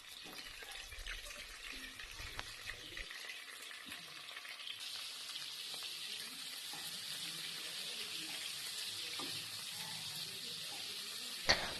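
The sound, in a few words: prawns frying in mustard oil in a pan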